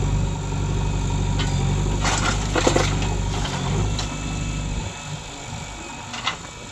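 A Swaraj 744 tractor engine runs steadily at close range with a low, continuous rumble, settling to a quieter idle near the end.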